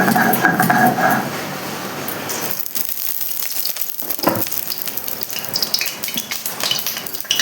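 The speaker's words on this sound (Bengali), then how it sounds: "কড়াই গরম হয়ে গেছে, এখন কড়াইতে তেল দেব।" Oil goes into a hot kadai (wok), giving a burst of broad hissing noise that settles into scattered crackles and light sizzling pops, fairly close and with no talk.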